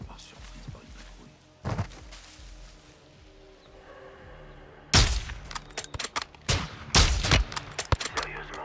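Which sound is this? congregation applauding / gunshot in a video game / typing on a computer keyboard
gunshot in a video game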